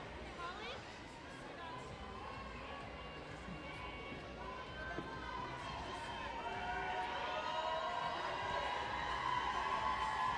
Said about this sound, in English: Round of applause for Demi Gore here